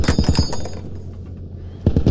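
Rapid bursts of automatic gunfire in a military video game with a TAPV armoured vehicle, a quick volley of close, sharp shots, a brief lull, then another burst.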